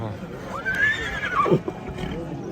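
A horse at a livestock bazaar gives a loud, rising-and-falling whinny close by, with voices and market bustle behind it.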